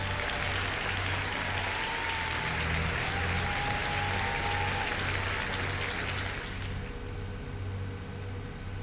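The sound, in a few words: round of applause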